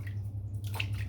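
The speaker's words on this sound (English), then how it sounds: "Let's put the bloom water in my hand" A brief soft trickle of water splashes into a cupped hand, faint and close over a low steady hum.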